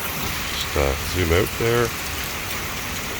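Hail falls on pavement and grass in a steady, dense hiss of patter that runs throughout, while someone speaks briefly over it.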